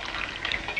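Cold water being poured into a drinking glass, a faint, short trickling splash heard alone without talk.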